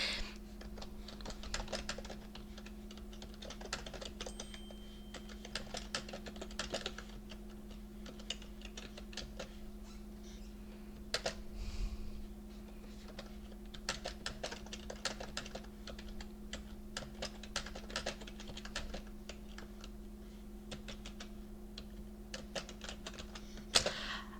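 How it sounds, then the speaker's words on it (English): Someone types on a computer keyboard, a long run of quiet, close key clicks in uneven bursts with brief pauses over a low steady hum, no voices. "So you just type your story."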